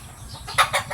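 Chickens clucking in a coop, a few short clucks close by over a low background rumble.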